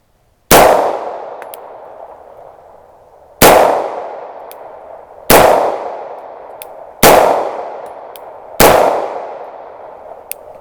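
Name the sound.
9mm pistol shots fired with CFE Pistol powder loads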